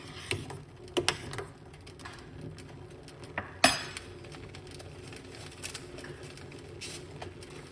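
A spoon stirs an okra tea mixture in a cup, making a few light clinks and taps against the sides over a quiet background, with one sharper knock midway.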